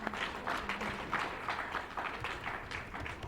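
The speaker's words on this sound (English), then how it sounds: "another round of applause for it." Applause at a formal academic occasion with a vice chancellor present, fairly quiet and somewhat distant, the individual claps rising and falling in a loose ragged rhythm, with no talk over it.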